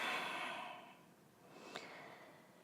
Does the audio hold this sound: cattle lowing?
no